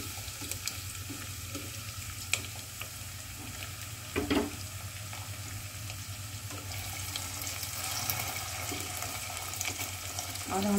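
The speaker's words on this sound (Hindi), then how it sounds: "और हम अब इसे रेड होने तक फ्राई करेंगे" Onions, green chillies and potatoes fry in a pan for aloo bhindi, a steady sizzling hiss throughout with occasional stirring scrapes and clinks, close and moderately loud.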